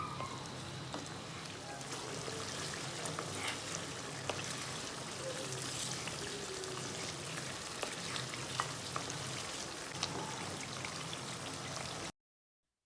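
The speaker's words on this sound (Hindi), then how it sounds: "डालने के बाद खूब भूनना है इसे 3 से 4 मिनट तक" Chicken coated in yogurt sizzles and crackles in a pan for a karahi, a steady, fairly quiet frying hiss with scattered pops that runs unbroken, then cuts off abruptly.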